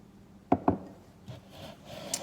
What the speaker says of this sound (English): I'm just gonna stir it